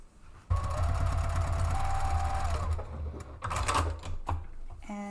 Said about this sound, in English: I'm going to stitch down one side using the 5/8 of an inch seam allowance.